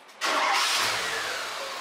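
A 1990 Tofaş Toros car engine catches and settles into a steady, loud running note that fades slightly after a brief quiet start.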